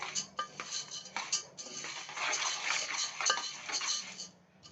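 A metal spoon scrapes and clinks against a pan while urad dal is dry-roasted and stirred, in irregular close-up strokes with brief pauses and a quieter stretch near the end.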